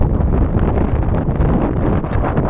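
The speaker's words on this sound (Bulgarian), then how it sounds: "Дано да ме чуете от силния вятър." Strong wind blows across a wide open meadow, buffeting the microphone in a constant loud roar with gusty rumble and no speech.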